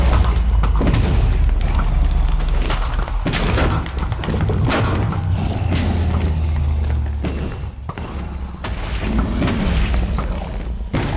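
Explosions in the Dragon Age video game: loud, dense booms and heavy thuds follow one another throughout, with bursts of crackling over a deep rumbling low end.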